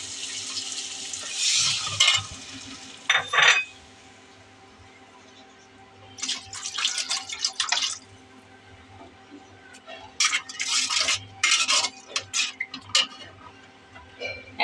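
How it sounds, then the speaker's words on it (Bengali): A spoon stirs ridge gourd and shrimp curry in a pan, giving bursts of scraping and sizzling in several separate stretches between quiet pauses. "এখন একটু পানি দিয়ে বাকি উপকরণ দিয়ে ভালো করে কষা নেব।"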